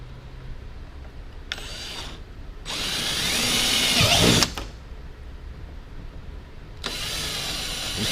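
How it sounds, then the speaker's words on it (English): A power drill bores holes through a boat hull for mounting a rudder plate, in three separate bursts: a short whir, a longer loaded grind that bogs and stops with a clunk, then another whir starting up. "then drill your holes."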